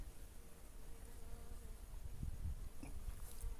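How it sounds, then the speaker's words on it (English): Bees buzz around scented flowers in a home garden, a faint, continuous, wavering hum close by with a few louder passes near the end, no voices over it. "There's heaps of bees on these."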